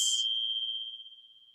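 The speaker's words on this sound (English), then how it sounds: "So today, we're going to start with the bell." A single clear bell strike marking the start of a yoga practice, bright and close with a sharp attack and a long pure ringing tone that slowly fades with gentle beating, alone without talk.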